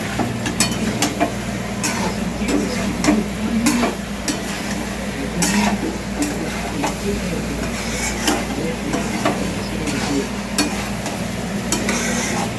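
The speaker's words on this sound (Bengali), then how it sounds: "দিয়ে ভালো করে দেখো কষিয়ে নিচ্ছি।" Chicken being sautéed in a pan with chili, turmeric and cumin powder, giving a steady close sizzle with repeated scraping and stirring clicks throughout.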